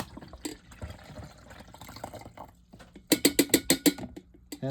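A drip coffee maker switched on with about eight cups of unfiltered tap water gives low mechanical rattling and trickling, then a quick run of loud, evenly spaced clicks or pops near the end, heard close and alone.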